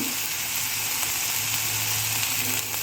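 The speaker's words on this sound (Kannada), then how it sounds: "ನೋಡಿ ಕ್ಯಾಪ್ಸಿಕಮ್ ಎಷ್ಟು ಚೆನ್ನಾಗಿ ಎಣ್ಣೆಯಲ್ಲಿ ಫ್ರೈ ಆಗಿದೆ" Capsicum frying in oil in a pan, a continuous loud, even sizzle that holds steady from start to finish, close by and with no voices.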